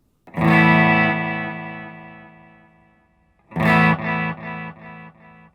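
A clean electric guitar chord rings out and fades slowly, then a second chord is followed by several evenly spaced, gradually softer delay repeats.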